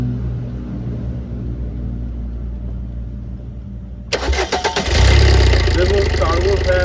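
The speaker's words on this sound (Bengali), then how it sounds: "এই গাড়ি স্টার্ট করতো," A Maruti Suzuki Brezza car engine cranks and fires up after a quiet stretch with a voice talking, then settles into a loud, close idle rumble.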